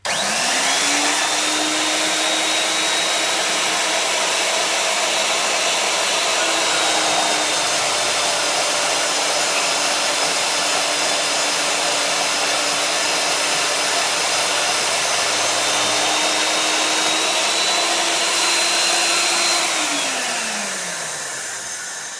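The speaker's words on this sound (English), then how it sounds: "cut this off on my bandsaw in the background there" A bandsaw runs with a loud steady whine and hiss while cutting through a metal bolt, the motor tone holding then dropping as it winds down.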